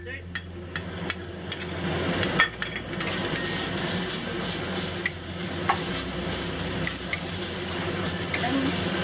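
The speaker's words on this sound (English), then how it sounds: "add a little bit of extra oil and add the shallot, ginger, and onion" Shallot, ginger, onion and pickled mustard fry in oil with a loud, steady sizzle that runs throughout, dotted with clatters and taps of a spatula stirring against the wok.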